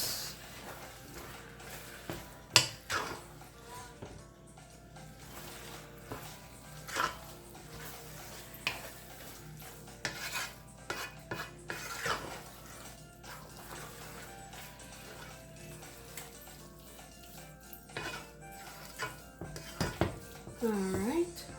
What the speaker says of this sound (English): we're gonna give this a mix